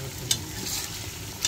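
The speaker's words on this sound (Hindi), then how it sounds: "साथ साथ घुमाएंगे ताकि वो जिसे कहते हैं ना कुकर की वॉल पे ना लगे" Chicken frying in a pressure cooker while being stirred for a biryani cooked at high altitude, giving a steady sizzle with a couple of sharp scrapes of the spoon. No one speaks.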